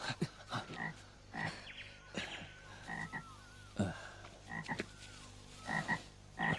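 Repeated croaking of a frog demon in a fantasy film, voiced as a series of short, rough croaks in uneven bursts with brief pauses between them. The croaks are fairly close and clear, with no talking.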